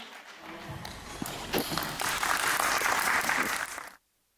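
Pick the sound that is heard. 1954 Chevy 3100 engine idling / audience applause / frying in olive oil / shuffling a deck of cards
audience applause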